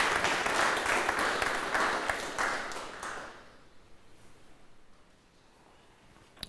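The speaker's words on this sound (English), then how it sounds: "Give him a big round of applause" Audience applause at a live coffee industry event: a full round of clapping for about three seconds that tapers off and fades into near quiet room tone.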